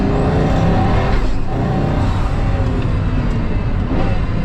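A Pagani Huayra Roadster's engine roars loudly while driving, a deep, sustained drone with turbo whooshes and shifts in pitch, steady and close throughout.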